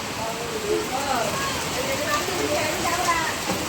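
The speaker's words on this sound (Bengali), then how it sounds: "এই যে দেখো বৃষ্টির কি অবস্থা" Steady hiss of rain falling outside, even and continuous, with faint voices murmuring underneath.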